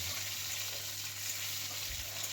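Cashews and raisins frying in a pan for basanti pulao, a steady, even sizzle that continues without break, alone with no talking.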